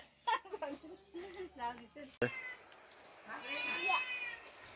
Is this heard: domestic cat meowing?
yes